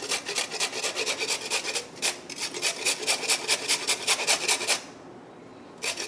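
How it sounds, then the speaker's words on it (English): A peeled carrot rubs rhythmically against a grater into a bowl, making quick, evenly paced rasping strokes that are close and clear, with a brief pause before one final stroke. "I'm going to grab a grater and grate it right into the bowl."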